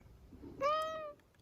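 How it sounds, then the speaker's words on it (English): A cat, likely in a video game, gives a single clear meow that rises and then trails off over about half a second, alone over quiet background hiss. "What a sweet little potato cat."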